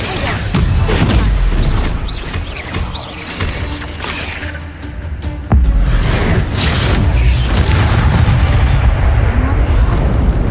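Spell effects from Hogwarts Legacy gameplay, with Incendio and Stupefy among them, rendered as loud overlapping bursts, booms and crashes that run dense for about ten seconds and jolt sharply midway.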